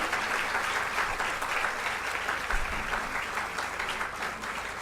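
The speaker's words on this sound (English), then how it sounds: "a louder round of applause, ladies and gentlemen, as we greet them" A crowd applauds steadily and loudly, a dense wash of clapping that holds for several seconds without letting up.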